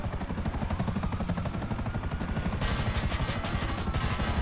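Helicopter in GTA V, a steady rapid rotor chop with a whining turbine tone, close and loud throughout, the blade thumping growing busier toward the end.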